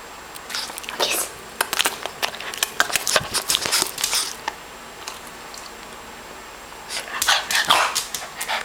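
A dog gives short, sharp barks and yips on command for a treat, in quick bursts at first, then a quieter stretch, then another burst, with people talking nearby.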